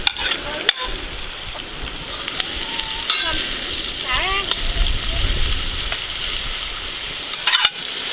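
Pimento sizzles and crackles steadily in a hot pan at a backyard cooking setup, with occasional scrapes and clinks of stirring and a few faint background sounds.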